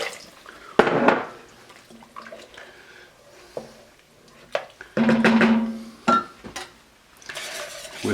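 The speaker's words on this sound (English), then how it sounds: "Whisk it up really well." Irregular scraping and clinking bursts of a whisk working cream of asparagus soup in a pot, with soft liquid sloshing between strokes and no voices.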